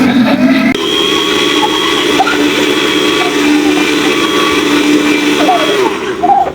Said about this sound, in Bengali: এখন হচ্ছে আমি ব্লেন্ডারে দুইটা ঘুরিয়ে নিব